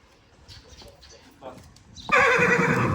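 A mare being given an injection lets out a loud, sustained whinny that bursts in near the end, following quieter voices and scattered noises.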